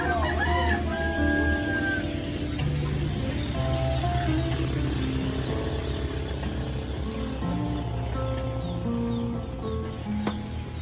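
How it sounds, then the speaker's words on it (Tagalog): Chickens cluck and a rooster crows repeatedly nearby, overlapping calls continuing over a steady background hum. "Itong mga manok dun, oh."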